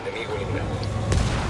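Helicopter being shot down in Ghost Recon Wildlands: a brief dense burst of gunfire and a booming crash, loud and close, with a voice talking over it.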